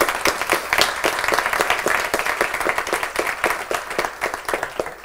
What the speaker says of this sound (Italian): Un applauso a Simone.